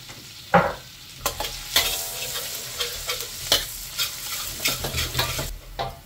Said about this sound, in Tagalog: Ilagay na natin ang ating bawang.